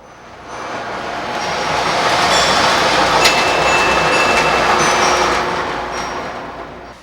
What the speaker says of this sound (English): It's refreshing to see an old-fashioned toy train Christmas layout.